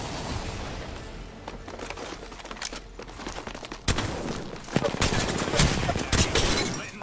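Video game shotgun fire crackles in repeated dense bursts, loud and close. Sharp blasts at around four and five seconds stand out over a noisy, chaotic background.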